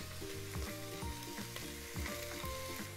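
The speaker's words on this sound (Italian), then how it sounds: "Deve soffriggere poco, semplicemente per dar sapore all'aglio" Garlic sautéing in a pan for a Cilento-style ragù, a close, continuous crackling sizzle with rhythmic stirring scrapes and no voices.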